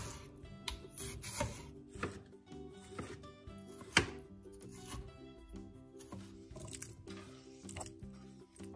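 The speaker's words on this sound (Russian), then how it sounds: "Сочные помидоры нарезаем кубиками." A knife dices juicy tomatoes into cubes on a board, giving a quick run of crisp, irregular chops and squishy cuts, close and fairly loud, with brief gaps between bursts.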